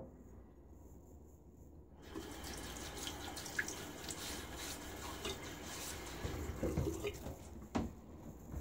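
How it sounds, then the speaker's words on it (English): Water splashing and running as a face is wetted at a sink before a shave; quiet at first, then steady close splashing and trickling with a few sharper drips and splashes near the end, no talking. "Get my face wet, try this guy out."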